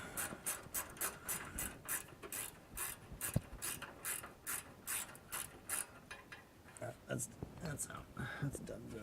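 A ratchet wrench works a bolt loose in a garage, giving a steady series of fast, evenly spaced clicking strokes that turn irregular near the end, quietly recorded under soft talk.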